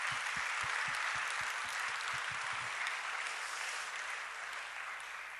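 Audience applause at a church gathering of pastors, honouring a clinic director as he stands; dense steady clapping fills the room for several seconds, with a few low thumps early on, tapering slightly toward the end.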